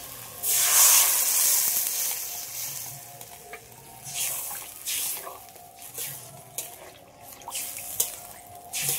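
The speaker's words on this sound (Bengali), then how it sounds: "এবার আমি জল দিয়ে দিচ্ছি" Water hits a hot pan of spice-fried potatoes with a loud burst of hissing steam, which settles into a lower, uneven sizzle and bubbling with occasional spatters and scrapes.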